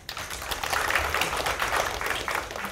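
Audience at a Korean forum on YouTube politics and fake news applauding after a presentation, a dense, steady round of clapping from a room full of people, lasting a few seconds.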